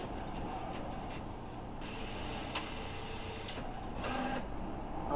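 An HP printer runs at a quiet distance, giving a soft steady mechanical whir with faint repeated ticks and clicks.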